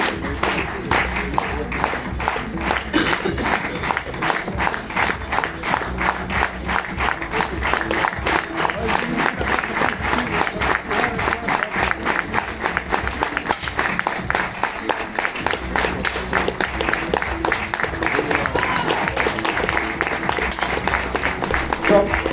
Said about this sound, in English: Ladies and gentlemen, your applause for Peter Sidi from Hungary